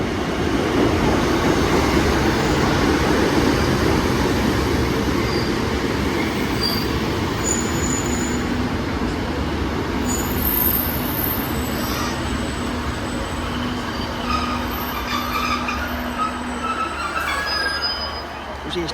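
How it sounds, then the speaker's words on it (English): A diesel multiple unit passenger train, a Class 150 paired with a Class 156, rumbles steadily nearby at Warrington Central station, with a constant low engine hum and occasional faint squeals and clanks from the wheels. "our first train of the day is a 150 paired with a 156"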